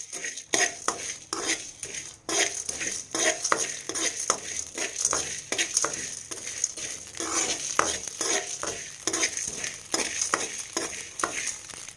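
Spices roast in a pan in a village kitchen while a spoon stirs them, giving a steady run of close scraping and clinking strokes over a low sizzle.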